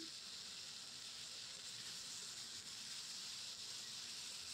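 Ginger garlic paste sizzles in a hot pan as a steady, broadband hiss with a soft crackle throughout, loud and close with no talking over it.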